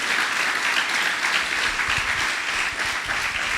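A church congregation applauds loudly during a Spanish-language sermon, a dense, sustained roar of clapping hands filling the whole stretch without any speech on top.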